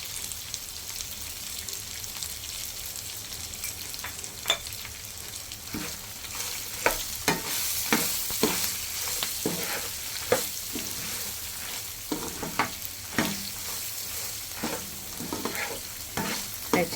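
Red chillies, garlic and coriander seeds dry-roasting in a large pan, giving a steady close sizzle and crackle with repeated stirring scrapes at an uneven rhythm, no voices.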